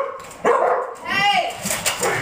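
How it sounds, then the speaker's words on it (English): Several dogs bark and yelp excitedly at a home on visitors' arrival, loud close barks mixed with a whining howl, while people talk over them. "Dog's going crazy."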